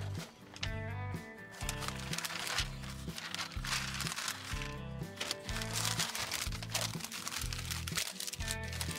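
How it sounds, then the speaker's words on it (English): Butcher paper crinkles and crunches steadily as a smoked tri tip is wrapped in it, close and continuous over a rhythmic musical backing. "now we're just gonna take it off and wrap it in butcher paper"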